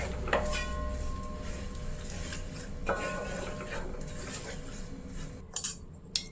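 Kashmiri chilli powder and asafoetida are stirred in a pan for beef pickle, giving a close, continuous scraping and clinking of a spoon on metal over a faint sizzle, ending in a few sharper knocks.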